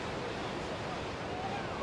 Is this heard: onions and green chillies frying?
no